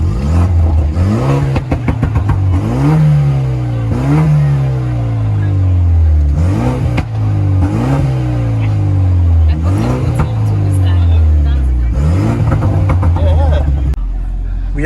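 Ford Mustang GT ripping through city streets in Accra, engine revving hard through repeated rising pulls and gear shifts, loud and close throughout, with voices talking over the engine.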